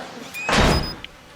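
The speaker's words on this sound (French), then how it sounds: "Ah, c'est la porte qui s'est fermée." Door closing in the horror game Outlast, a sliding heavy rumble building into a muffled thud, with a small knock just after, no talk over it.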